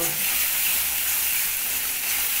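Water poured into a hot pan while cabbage dhoka cooks sets off a loud, steady hiss and sizzle of boiling steam, close and continuous, with no voices.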